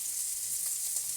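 Smoked lardons frying in a pan, an even, hissing sizzle that holds steady and fills the whole short moment, with no voices over it.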